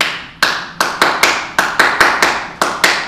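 An audience gives a Ghanaian appreciation clap: about nine sharp, loud claps in a deliberate, slightly uneven rhythm, each hit crisp and distinct with short gaps between, and no talking.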